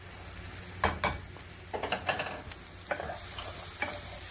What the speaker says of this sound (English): I'm going to add some flour in here. Basically what we're doing is we're making a roux for the sauce.